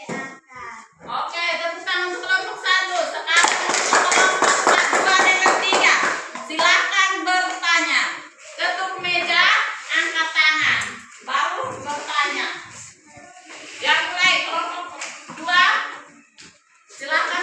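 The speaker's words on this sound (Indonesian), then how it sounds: "Oke, tepuk tangan untuk kelompok 1" A classroom of children claps for a group of classmates, with bursts of hand clapping mixed into a steady stream of lively children's voices chattering and calling out nearby.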